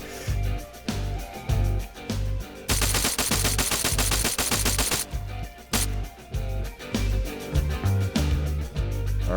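Rifle fire from Arma 3, loud repeated shots in quick bursts with a dense sustained volley in the middle, booming low thuds throughout, no talk.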